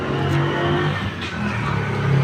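Motor vehicles and motorbikes in crowded Philippine street traffic, a steady close engine drone with a slight revving rise, no voices.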